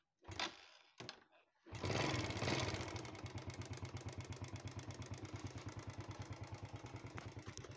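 A Yamaha motorcycle fitted with a Honda carburetor starts up after a couple of short cranking bursts, then settles into a steady, even idle with a close, regular chugging pulse that holds without stalling.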